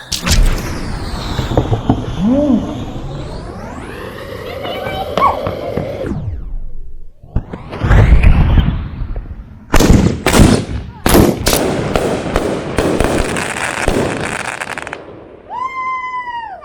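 New Year's night fireworks: loud irregular bursts and crackling explosions, some quick volleys, with whistling rockets and several gaps, close by and powerful. People talk and shout at times in between.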